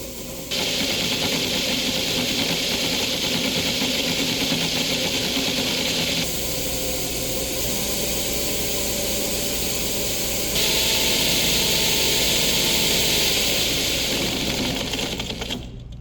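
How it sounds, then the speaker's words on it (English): A steady mechanical whirring with a dense, rapid clicking rattle running throughout, as a motor's drive chain skips over its sprocket under load on a dyno-tested gearbox, fairly loud and close. "That clicking sound you're hearing is the chain skipping around the 2 Newton meter mark."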